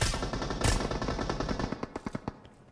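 Rapid automatic gunfire from a PUBG Mobile match, loud and dense at first with a sharp burst near the start, then thinning into a string of distinct single shots toward the end, with no talking.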